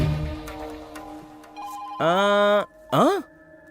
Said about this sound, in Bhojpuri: अपन फोन से ई नंबर पर फोन लगा